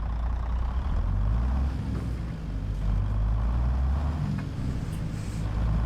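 A Peterbilt 389 truck engine in American Truck Simulator rumbles and pulls steadily under acceleration, a deep, continuous, fairly loud drone with no speech.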